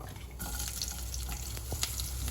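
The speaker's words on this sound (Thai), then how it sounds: "ทำกระเทียมเจียวก่อน" Garlic sizzles steadily in a pan over low heat for a traditional Thai rice soup, a constant bright hiss with a few small crackles and pops and no talking.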